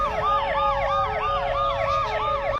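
Police siren wailing in a repeated rising-and-falling two-tone pattern, loud and close, cycling steadily without pause over a low rumble of traffic and no talking.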